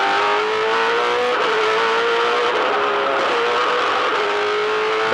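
A V8 Supercar at the 2007 Queensland 300 race buzzes at high revs, around 8,500, after the driver grabs neutral on a shift from third to fourth, a loud, sustained engine drone heard close and alone.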